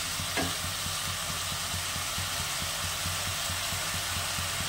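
Bitter gourd, potato and onion fry in hot oil with a steady, close sizzle, while regular soft scraping strokes of a stirring spatula tick through it.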